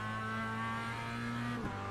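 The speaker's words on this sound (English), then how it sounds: "Climbs up through the revs once again." A Mazda MX-5 race car with a sequential gearbox revs hard on track at Zandvoort, a steady loud engine drone with strong harmonics that dips briefly near the end as the driver shifts.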